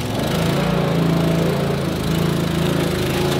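A riding lawn mower engine runs steadily close by on a farm, a loud continuous buzzing drone with an even hum and no talking.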